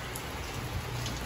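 Steady afternoon rain falls at a house under construction, a soft even hiss of drops on surfaces with no voices.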